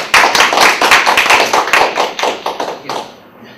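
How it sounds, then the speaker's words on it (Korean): Applause from a small lecture audience welcoming a professor to a university law talk, close and loud individual claps in a quick uneven patter that thins out and fades toward the end. "박수로 맞아주십시오."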